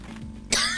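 A single short, harsh cough bursts out after a moment of low background noise, close and fairly loud.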